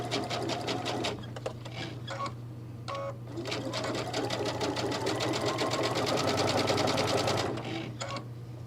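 A sewing machine stitches a seam on a clutch bag in fast, rhythmic bursts, running continuously for long stretches with brief pauses, close and clear over a steady low hum, with someone talking during it.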